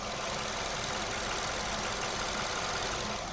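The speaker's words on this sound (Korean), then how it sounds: "굉장히 조용한 엔진 소리를 가지고 있고요" A 2018 imported gasoline sedan's engine idles quietly with the hood open, humming evenly with a faint hiss on top, constant and unbroken, with no one speaking.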